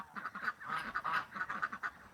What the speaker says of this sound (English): The gray goose.